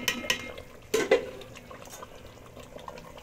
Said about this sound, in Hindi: तो अब इसको अगेन एक बार अच्छे से मिक्स कर लें